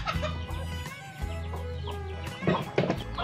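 Chickens cluck repeatedly in a farmyard where two sisters sweep and scatter rice for the birds, short clucks and calls over a steady low hum, fairly close and moderately loud.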